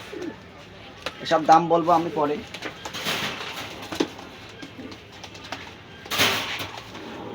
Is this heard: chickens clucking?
no